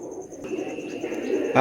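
Soft, low cooing of pigeons repeating steadily at close range, with a faint chirp and a brief rustle near the end.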